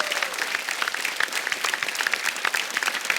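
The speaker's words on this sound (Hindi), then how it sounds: "तो उनके लिए जोरदार तालियां हो जाएं" Studio audience at a Hindi comedy talk show applauds for Mumbai police officers' families, giving steady, dense clapping that fills the room throughout with a faint murmur of crowd voices underneath.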